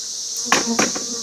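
Honey bees buzz with a steady high hum during an apiary hive inspection, with a couple of brief knocks or clunks from handling the hive stand cutting through.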